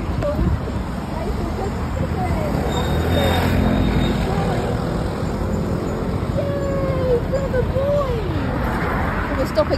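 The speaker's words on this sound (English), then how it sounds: "obviously we can hear the cars, so it's not safe to cross" Road traffic at a street crossing, heard from the pedestrian side of the kerb: car engines and tyre noise rumble past steadily, with a vehicle swelling nearer mid-way and background city hubbub.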